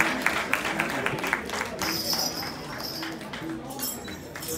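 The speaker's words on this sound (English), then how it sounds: "Let's give a round of applause to both of them." Audience at a Jain community honoring ceremony in Houston clapping steadily with a few clinks, a moderate, diffuse applause with voices murmuring through the crowd.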